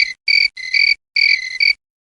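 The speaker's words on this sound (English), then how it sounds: "Crickets." Crickets chirp in short, bright pulsing bursts, four clear trills separated by brief pauses, loud and close with no other sound around them.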